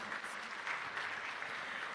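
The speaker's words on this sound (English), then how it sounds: "Another rousing round of applause for all the change makers" Brief, steady applause from a crowd at a public sector launch event, an even wash of many hands clapping with no breaks.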